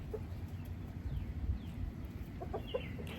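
Brahma chickens cluck softly in short scattered calls as they come out onto wet grass, a few brief notes standing out over a steady outdoor background hiss.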